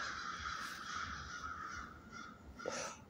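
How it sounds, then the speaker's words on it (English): Crows caw outdoors, a few harsh calls repeating at a distance, faint over a steady background hiss, with one louder caw standing out near the end. "Those is the crows."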